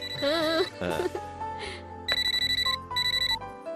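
A telephone rings in repeated electronic trill bursts, loud and close, after a short stretch of musical tones.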